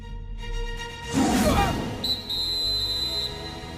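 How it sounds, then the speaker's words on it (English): Referee's whistle blown for halftime in a Captain Tsubasa football match, a steady shrill tone held for about a second over crowd and match noise. "It appears the whistle ending the half blew right before the kick was made."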